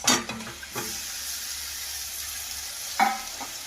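Pre-fried chicken pieces stirred into spice masala that has been cooked down in hot oil with whole spices, a steady sizzle and hiss with scraping stirs at the start and again near the end.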